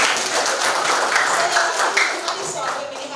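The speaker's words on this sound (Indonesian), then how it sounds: "Tepuk tangan dong." An audience claps steadily and densely in a hall during a church opening service, the applause sustained and fairly close throughout.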